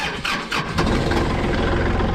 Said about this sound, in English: I gotta fire the tractor up here and let it warm up